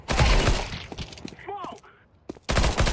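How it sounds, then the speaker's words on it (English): In a video game, a thrown flashbang grenade goes off in a loud, sharp burst with gunfire and crackling debris, then a short lull with a voice, then another loud burst of shots and blasts close by. "Throw the flashbang"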